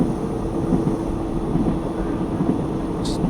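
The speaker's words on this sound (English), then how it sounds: "Just gently slow the train down." A diesel railcar in a train simulator game gives a steady, moderately loud low rumble with a faint high whine, running evenly without clear changes as it is eased down in speed.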